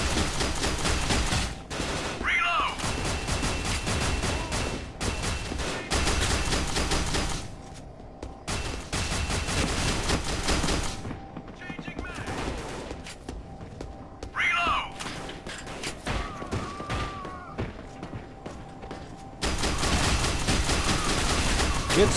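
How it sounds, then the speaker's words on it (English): Gunfire rings out in the online shooter game Fear Online: bursts of automatic fire and rapid shots crackle in long, loud stretches with brief pauses, while players talk over it. "what the hell are we shooting at?"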